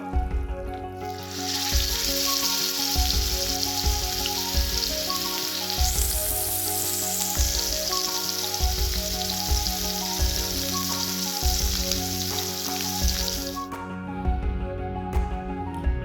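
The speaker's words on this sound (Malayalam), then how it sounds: "ഇന്ന് ചോറിന് ഒരു അയിലേ കൂടെ പൊരിച്ചേക്കട്ടെ കേട്ടോ" Mackerel fish sizzle steadily in hot oil in a pan, a continuous loud frying hiss lasting throughout, with occasional light stirring or handling noises and no talking.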